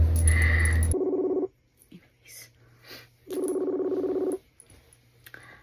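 A phone call ringing out through an earpiece, with two long buzzing rings separated by a pause and a few faint clicks and rustles between them. A brief louder burst opens the sequence.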